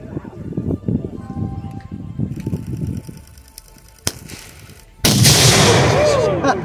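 A single-bang flashbang grenade from an ordnance lab detonates with one sharp, very loud blast close by, followed by a roaring burst of noise, after scattered outdoor chatter.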